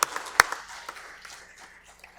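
Scattered hand claps from an audience at a governor's State of the State address, one sharp loud clap standing out early, then a thin, fading patter of clapping in a large room, with no one speaking.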